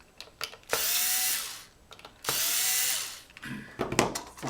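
A power tool driving out the screws on a power fail alarm's cover: two sustained bursts of a steady, whining drill motor, each lasting over a second, separated by small clicks and handling knocks.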